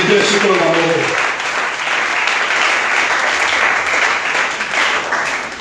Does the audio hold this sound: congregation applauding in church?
yes